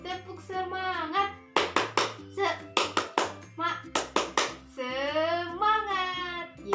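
Second-grade children in an Indonesian classroom perform the 'tepuk semangat' clapping chant, sharp group claps in a patterned rhythm alternating with their voices chanting together, close and lively.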